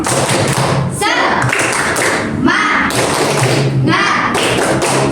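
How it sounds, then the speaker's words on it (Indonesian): A classroom of students performs the rhythmic 'tepuk semangat' clap, loud, close and continuous thumps and taps in patterned bursts, with voices chanting along. "Kita beri tepuk dulu. Tepuk semangat."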